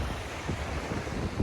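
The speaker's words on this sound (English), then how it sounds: "If it's a little bit windy, apologies." Wind gusting across a beach in Cancun, a steady low rumble buffeting the microphone with a soft wash like distant surf beneath it, and no voices.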